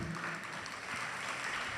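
An audience at a Christian sermon claps together to praise the Lord, a steady, fairly quiet wash of applause heard from a distance, with no voices over it.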